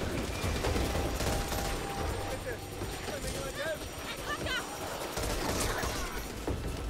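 Gunfire in the co-op zombie shooter Back 4 Blood: dense, continuous rattling shots amid a noisy battle din, with brief voiced or creature-like squeals in the middle.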